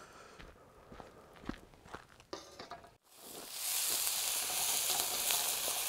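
Garlic and chilli hit a hot pan: after some scattered clatter and handling noises, a loud, steady sizzle of frying erupts abruptly and carries on evenly to the end.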